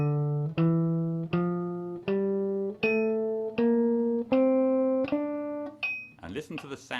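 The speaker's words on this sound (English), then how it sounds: "this is the natural minor or relative minor scale" Instrument playing a D natural minor scale as eight distinct ascending notes, each struck clearly and sustained, followed by a brief voice at the end.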